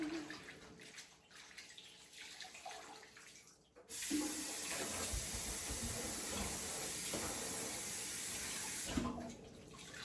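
Kitchen tap running steadily over raw pork in a bowl, a loud continuous splashing hiss that starts abruptly after a few seconds of quieter handling noise and cuts off near the end.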